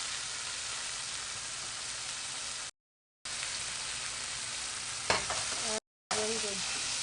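Garlic and tomatoes sauté in a pan with a continuous close sizzle, broken by short silent gaps and one sharper clatter of stirring; no speech.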